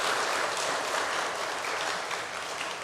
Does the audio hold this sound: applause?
yes